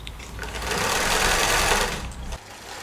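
A sewing machine runs steadily for about two seconds, stitching high-quality fabric for handmade one-off garments, loud and close with a whirring hum before it slows and stops.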